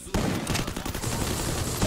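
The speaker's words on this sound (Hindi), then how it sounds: "गोली चला के रिवाइव दे रहा है।" Dense bursts of rapid gunfire in a battle royale video game while a downed teammate is revived, loud and continuous for the whole stretch with barely any pause.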